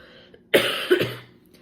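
A short burst of coughing, two or three harsh coughs close up, followed by quiet.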